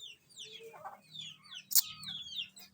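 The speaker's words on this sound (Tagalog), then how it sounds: "May mga alagang manok dito" Chickens cluck softly nearby, with short bird chirps and a rooster-like call from fighting cocks scattered over a quiet outdoor background.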